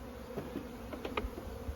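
Field bees returning to a hive, their buzzing wings passing close by in a few brief swells over a quiet outdoor background.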